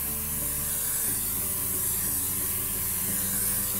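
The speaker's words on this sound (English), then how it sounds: "keep your bottle upright so that you don't overspray too much on the legs or the feet" Spray-tan bottle misting continuously onto a person's legs, a close, steady airy hiss that runs unbroken for a few seconds with a low hum beneath.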